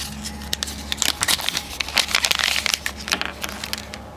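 Plastic packaging of a wiper delete sealant kit for a 2022 Corolla hatchback being opened up close, with a quick burst of crinkling, crackling and crushing sounds.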